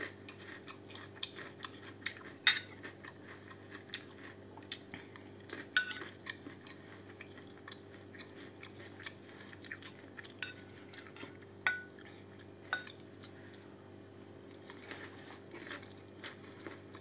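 Soft, close chewing and occasional utensil clicks on a dish while a salad is eaten during a mukbang, with small crunchy bites scattered through a quiet room and no talking.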